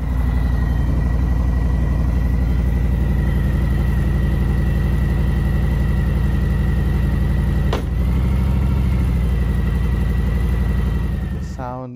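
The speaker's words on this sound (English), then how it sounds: "when I put it into gear, and you'll hear the clunk sound" A Harley-Davidson Fat Bob motorcycle idles loudly and steadily. A single sharp clunk sounds partway through as it is shifted into gear, and the engine keeps rumbling afterward.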